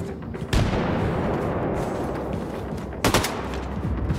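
A grenade blast and gunfire in the shooter Wolfenstein II: The New Colossus: loud, dense crackling fire runs the whole time, with a sharp explosive burst near the start and another heavy burst past the three-second mark.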